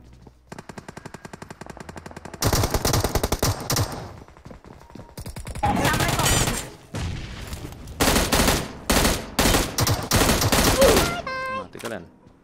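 M16 rifle fire in PUBG Mobile comes in repeated bursts of rapid automatic shots, loud and close, separated by short pauses, with a player talking in between.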